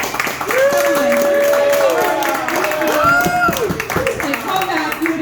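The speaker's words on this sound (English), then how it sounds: "Can I ask for a round of applause?" Applause with scattered clapping rises under loud, excited talking and cheering voices at an open mic night.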